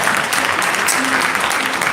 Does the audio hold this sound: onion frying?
no